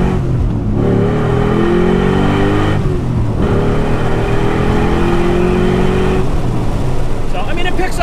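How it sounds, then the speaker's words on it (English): Engine of a 2000 Ford Mustang Cobra R revving up and down in two long pulls, loud and close, with a steady rumble between the rises and a brief voice near the end. "I'll give you a little sound of this thing."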